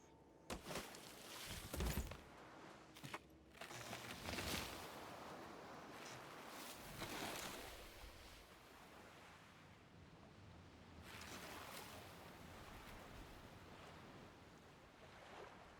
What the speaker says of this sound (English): We are sailing the seas.